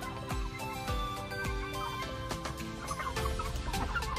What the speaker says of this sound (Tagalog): Then mga native chickens natin.